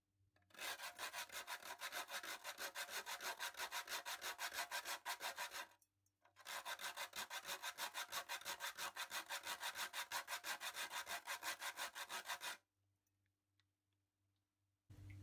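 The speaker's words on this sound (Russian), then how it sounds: "Пол овощного кубика натираю." Half a vegetable stock cube is rubbed against a grater for zucchini fritters, making two long runs of fast, steady rasping strokes with a short pause between them, close and loud with no talk.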